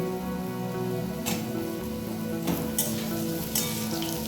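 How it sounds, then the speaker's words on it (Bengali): Ridge gourd and potato pieces fry in oil in a pan with a constant soft sizzle, broken by a few brief scraping stir sounds, and no one speaks. "ঝিঙেটাকে একটু হালকা করে একটু ভেজে নেব"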